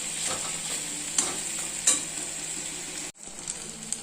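Tomatoes sautéing in a pan for chutney, with a steady close sizzle and frying crackle plus a few stirring scrapes and clinks, running alone before a brief cutoff near the end.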